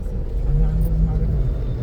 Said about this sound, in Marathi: खचाखच ट्रॅफिक